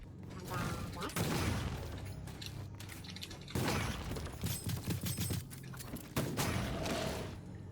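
Cannon fire in a video game, with several loud bursts and booming impacts punctuated by mechanical clanks and rattles, fairly close and dominant.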